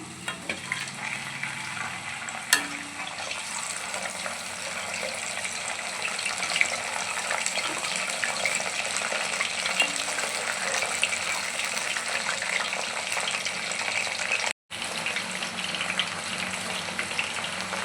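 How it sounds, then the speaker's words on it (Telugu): Steady sizzling of aloe vera frying in oil, with occasional stirring scrapes throughout and no talking. "ఒకసారి తిప్పుదాము ఇప్పుడు వచ్చేసి కలబంద వేస్తున్నాను"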